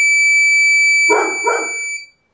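A buzzer alarm on a school project card sounds a steady, loud, high electronic tone for about two seconds and then cuts off, with two short bark-like bursts breaking in partway through.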